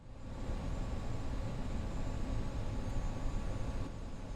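Steady, loud engine roar from inside an Avro RJ100 four-engine jet airliner on approach to landing at Stockholm, a continuous broadband rumble holding at an even level throughout with no voices.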